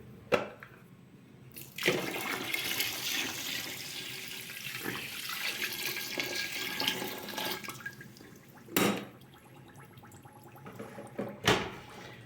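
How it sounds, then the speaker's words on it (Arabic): Boiling-hot water is poured steadily from a container into a pot in a home kitchen, a continuous splashing pour of about seven seconds framed by brief knocks and clatters of handling. "هنا غادي نضيف عليها 2 لتر ديال الماء"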